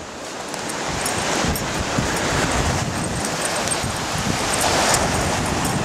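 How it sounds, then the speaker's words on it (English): Strong wind batters the microphone on a beach during high tide, with rough ocean surf crashing in a continuous loud rush throughout. "It's really, really windy."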